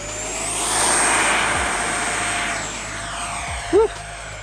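A twin 64mm Freewing F-14A Tomcat RC jet takes off with a rising electric ducted-fan whine, a steady high tone that swells and then eases, plus a brief sharp chirp near the end.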